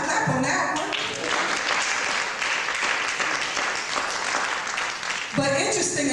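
A convention audience at the Region IV ICEA gathering claps steadily for several seconds, with a speaking voice briefly audible at the start and again as the applause tapers.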